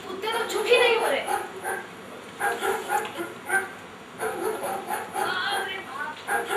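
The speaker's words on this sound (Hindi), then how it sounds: "कुत्ते तो चुप ही नहीं हो रहे" Several dogs bark and yip repeatedly in bursts during a stage play, mixed with loud overlapping voices of people talking.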